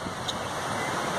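Surf rolls onto a beach, a continuous soft wash of breaking waves mixed with wind rumble against the microphone, fairly faint and unbroken, with no talking.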